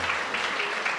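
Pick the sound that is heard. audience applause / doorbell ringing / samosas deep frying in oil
audience applause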